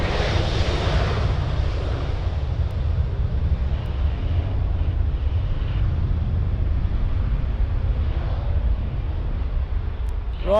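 A Jet2 airliner at Birmingham Airport departing for Las Palmas gives a steady low engine rumble with broadband roar throughout, fairly loud and continuous, with a brief tonal chirp near the end.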